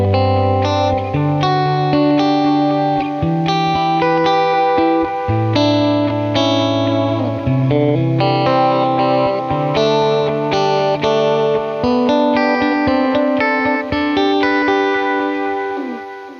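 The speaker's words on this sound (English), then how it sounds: "one of the coolest features of the triple delay itself is the ability to run delays, multiple delays, either in series, one delay into the other, or in parallel" An electric guitar runs through a triple delay pedal with multiple delays in series or parallel, giving loud, sustained chords and melodic notes that smear into layered repeats, chorus-like shimmer and reverb, continuous and alone.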